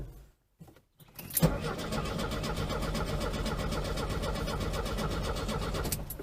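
A 1972 VW Beetle engine cranks on a jump box after a brief quiet start, giving a steady, loud, rhythmic churning that continues for several seconds without catching.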